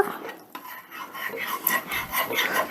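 Chicken tikka masala simmering in a crock pot is stirred with a utensil, giving soft continuous scraping and clinking against the pot, close and moderately quiet, with no talking.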